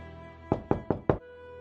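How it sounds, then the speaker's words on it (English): Four sharp, evenly spaced knocks land on a wooden side door, loud and close, with a steady hum in the background and no voices. "soon his father came knocking at one of the side doors"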